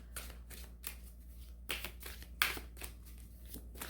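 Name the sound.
shuffling oracle cards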